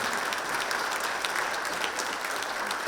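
An audience at the Cobb County State of the County 2023 event applauds public safety workers. The clapping is dense, steady and sustained throughout, with no speech over it.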